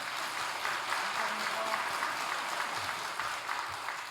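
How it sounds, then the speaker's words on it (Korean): Congregation applause during a Korean Sunday church service, a steady, even wash of clapping filling the room from start to finish at moderate level, with a faint voice or tone briefly showing through. "우리 박수 한번 주시기 바랍니다"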